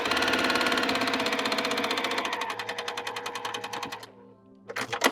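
A sewing machine stitches a quilt seam in a fast, steady run of needle strokes that slows and stops near the end, followed by a few brief handling clicks.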